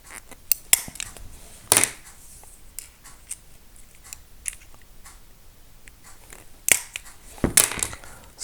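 A Montolit crab nipper snaps through pieces of glass smalti in sharp, scattered cracks and crunches, with tiny chips clinking. A few louder snaps stand out among quieter clicks, close up and with no talk.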